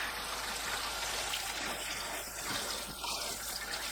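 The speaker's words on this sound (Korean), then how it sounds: "파를 깨끗하게 씻어줍니다." Steady stream of tap water running over green onions being rinsed in a sink, a continuous close splashing hiss with small shifts as the stalks move under the flow.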